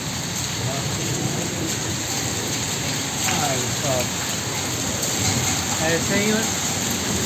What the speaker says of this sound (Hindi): भाई साहब, बिजली और पानी दोनों आ रहे साथ में।